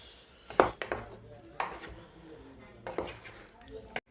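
A spoon scrapes and clinks against a pan while brinjal chutney is stirred, giving a few separate metallic knocks and scrapes at irregular intervals, fairly close, with no talking.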